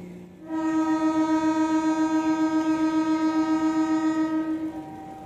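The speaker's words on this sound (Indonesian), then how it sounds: "Nah, seperti itulah klaksonnya. Mantap kan? Klaksonnya cukup keras ini." Loud, close horn of a departing CC01 series diesel locomotive sounds as one long sustained blast lasting several seconds, followed by a fading engine rumble.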